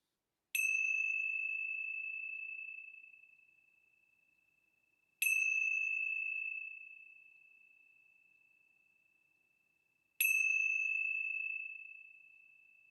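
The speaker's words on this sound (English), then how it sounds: "let's begin our time together with the ringing of the bells" A struck bell rings three times at slow, even intervals, each clear bright tone sounding alone and decaying gradually before the next strike.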